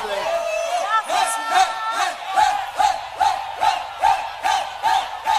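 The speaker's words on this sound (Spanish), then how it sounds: "Un aplauso para Miriam Cruz." A crowd at a merengue show for Miriam Cruz cheers and shouts in loud repeated surges about every half second, bright and near, with cries rising over a steady roar.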